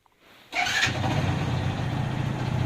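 An Alfa car engine starting after panel repair work: a brief starter crank followed by the engine catching and settling into a steady, close idle rumble, with no voices.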